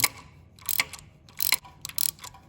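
A ratchet clicks in short bursts while turning a bolt to pull the starter bushing out of a Volkswagen MK1, four quick metallic ratcheting rattles close by with quiet gaps between.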